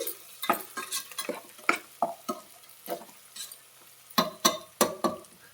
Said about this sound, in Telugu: సో కొంచెం ఇలా అడుగు పట్టకుండా కొంచెం కలిపేసుకోవాలి.